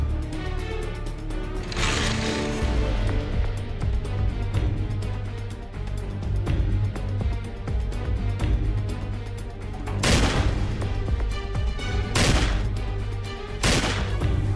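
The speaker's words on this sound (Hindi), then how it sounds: "उन्हें गोलियां मारी और वहां से फरार हो गया।" Gunfire in a staged courtroom drama reenactment rings out as several sharp, loud shots, bursting over a continuous background music bed, with the clearest reports coming late in the scene.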